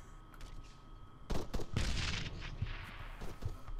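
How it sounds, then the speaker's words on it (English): Grenade explosions erupt in a night raid in the video game Arma 3, with a burst of booming blasts and crackling gunfire rising sharply partway through, then continuing as a dense, rumbling battle din without speech. "we've got grenades coming in everywhere"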